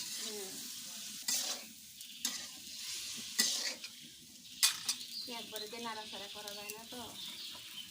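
Boiled home-grown jackfruit is turned in a small wok, with sharp metal scrapes every second or so over a soft sizzle while someone talks nearby between the strokes.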